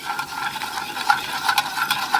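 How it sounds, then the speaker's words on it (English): A whisk stirs miso sauce with softening onion in a pan, a steady scraping swish with light rhythmic strokes and a faint sizzle beneath, close and continuous without talk. "I switched over to a whisk."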